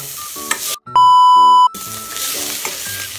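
Potatoes for chicken curry fry in a pan with a steady close sizzle, briefly cut off by a loud, flat electronic beep before the crackling frying resumes, with no voices.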